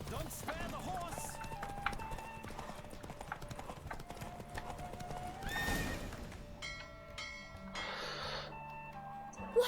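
A horse gallops with rapid, steady hoofbeats and gives a loud neigh partway through a horse race in the video game Witcher 3, backed by game music with a brief whooshing burst near the middle.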